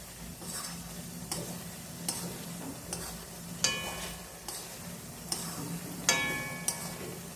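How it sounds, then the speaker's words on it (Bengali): Food frying in ghee in a pan over a gas flame: a constant low sizzle runs throughout, broken by regular, fairly close clicks and scrapes of a spoon stirring the pan. "এবার আমি গ্যাসটাকে বাড়িয়ে দেবো আর নাড়তে থাকবো"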